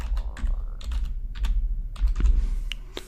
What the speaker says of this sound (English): So type in the password.